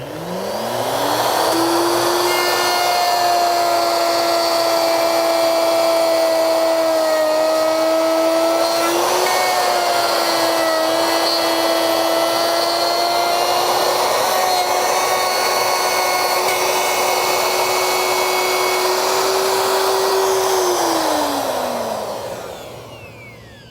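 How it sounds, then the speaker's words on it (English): A wood router cuts a stopped dado groove, starting with a rising whine, holding a loud steady high-pitched roar with a slight dip partway, then winding down at the end. "So now when I route this groove, this dado rather, it'll come up, bump against the stop block"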